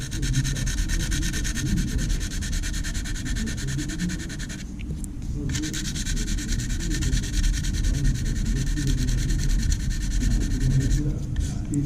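Steady, continuous abrasive rubbing of sandpaper across a model aircraft, close and loud, with a brief pause near the middle before it resumes.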